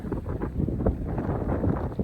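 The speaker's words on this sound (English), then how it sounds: "Wind's picking up now" Wind gusting across a microphone beside the River Severn during pike fishing, a steady rough rumble with swelling buffets throughout and no other clear sounds.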